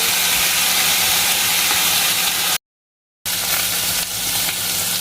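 Chicken steaks cooking in a pan on a low flame, a loud, steady hissing sizzle that cuts out abruptly for a moment and then resumes unchanged.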